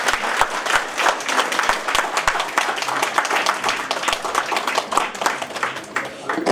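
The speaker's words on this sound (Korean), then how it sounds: "뜨거운 박수로 환영해 주십시오." Audience applause welcoming Professor Sagong Jeong-gyu to the stage at a Daegu public talk event, steady dense clapping from a crowd filling the room, sustained without a break.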